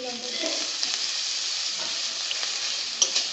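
Ginger paste and chili powder sauté in a pan for a doodh potol curry, a soft, even sizzle with faint stirring and a couple of small clicks near the end, close by and without talk.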